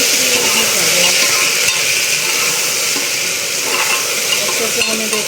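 Chopped taro root (arbi) frying in a pan, a steady close sizzle with stirring scrapes running throughout, no talk.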